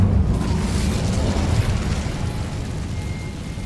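A deep, rumbling fiery burst from the Incendio fire spell in Hogwarts Legacy, loud and sustained with a low roaring body that slowly fades over a few seconds.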